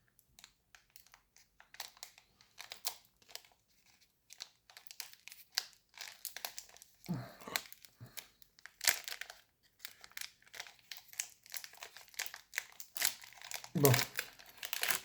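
Crinkling and crumpling of a tightly glued, sealed foil wrapper on a Magic: The Gathering Final Fantasy collector booster pack being pried open, in repeated close bursts with a louder tearing crunch near the end, while someone talks throughout.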